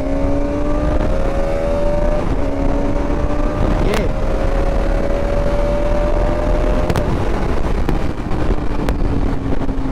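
A Bajaj Pulsar RS200 BS7 motorcycle engine accelerating, rising revs climbing through gear shifts, loud and close with heavy wind noise over the ride.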